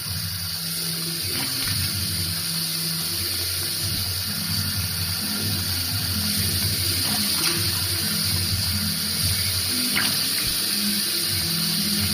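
Tap water runs steadily and close by, filling a sink while someone washes their face, a continuous splashing wash with no talking.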